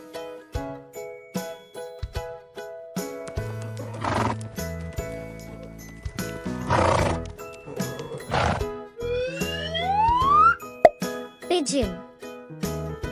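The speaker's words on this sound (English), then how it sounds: "This is horse." A horse neighs in a short children's animal-naming lesson, a clear whinny alongside clip-clop hooves and cartoon plops, with a voice speaking between the sounds.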